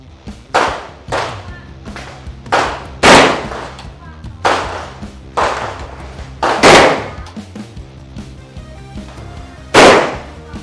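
A Derya MK12 shotgun fires three rounds outdoors on a test range, with loud, sharp blasts at irregular intervals and ringing tails, interspersed with additional reports and faint talk in the background.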